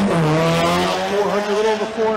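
An SR-powered Nissan S15 drift car at Formula Drift Japan at Sugo screams past at high revs, engine notes sweeping up and down, loud and close with tire squeal mixed in.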